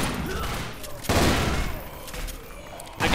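Gunfire bursts in the video game Zombie Panic: Source, two loud volleys of shots cracking out at moderate distance with a rumbling tail between them.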